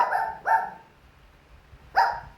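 A dog barks three times in short, sharp bursts, two close together then a third after a pause, each loud and near with no other sounds between.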